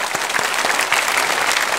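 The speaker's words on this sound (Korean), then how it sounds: "새 가족을 박수로 환영하겠습니다." Church congregation applauding to welcome new members during a Sunday worship service, a short steady burst of clapping from the crowd with no talk.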